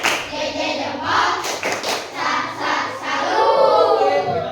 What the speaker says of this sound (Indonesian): Ya, tepuk tangan lagi untuk masing-masing kelompok yang sudah mempresentasikan